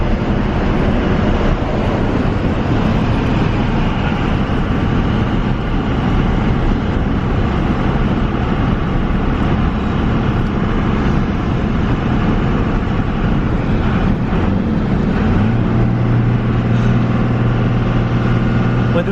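A Cummins diesel truck with a worn fifth-gear synchro drives along, its engine and road noise forming a loud, steady drone that runs unbroken throughout, with a low hum rising near the end.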